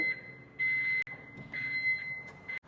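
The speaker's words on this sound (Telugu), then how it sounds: "సో బ్యాక్ చేసేటప్పుడు కూడా చూస్తున్నారు కదా టోటల్ బీప్ సౌండ్ అయితే వస్తుంది" A Mahindra Treo Plus electric auto-rickshaw's reversing beep pulses in a steady on-off rhythm, tonal and fairly quiet.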